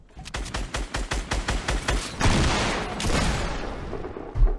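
Rapid bursts of gunfire from the video game Fortnite, a rhythmic volley of shots for about two seconds followed by a sustained louder spray and a final thump.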